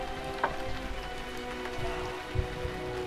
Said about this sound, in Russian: Даже дождь пошел